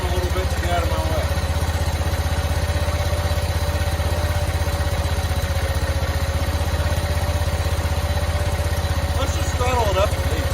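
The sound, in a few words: 1985 John Deere 210 lawn tractor engine idling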